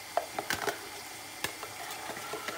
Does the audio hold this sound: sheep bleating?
no